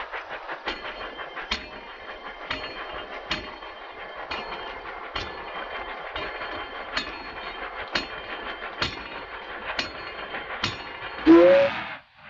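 A train runs with a regular clickety-clack, evenly spaced clicks over a constant mid-range rumble, moderately close, ending in a brief hiss before cutting off.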